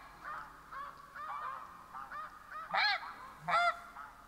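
Snow geese honk in a video game hunting scene in theHunter Classic, a flock calling in a rapid series of nasal honks that swell into two louder bursts near the end, with no talking.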